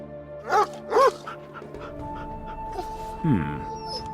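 A dog pants and whimpers in a monastery courtyard in the video game Lost Horizon, with a few short, rising whines, then a quieter breathy stretch and another brief whine near the end over a steady ambient hum.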